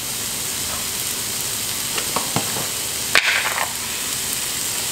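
Mushrooms seasoned with salt and chili sizzle steadily in a hot pan, with a few soft clinks and stirring scrapes breaking through the close, continuous frying hiss.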